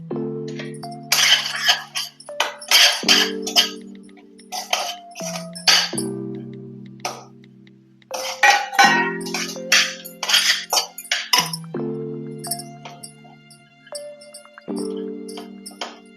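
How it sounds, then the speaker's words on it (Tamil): Shelled, halved peanuts stirred into hot syrup for peanut candy, giving repeated clinks and scraping knocks throughout, over a steady tonal hum in the background. "இதில் போட்டு நல்லா மிக்ஸ் பண்ணி கிளறிக்கலாம்."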